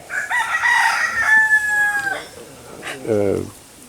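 A rooster crows loudly in one long call on a small farm, followed by a short run of chicken clucks, close and clear over faint background noise.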